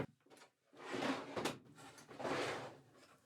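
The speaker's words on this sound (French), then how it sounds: "tu mets l'échelle dedans." A ladder is slid into a storage drawer of a van rack system, giving a soft scraping and sliding sequence with a couple of louder knocks as it settles, close and fairly quiet with no talking.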